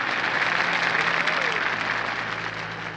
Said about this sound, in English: A big round of applause for one and only Mr.